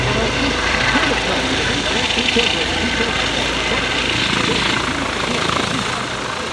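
A helicopter's rotor and engine drone steadily throughout at an airshow, loud and continuous, with a faint hint of voices mixed in.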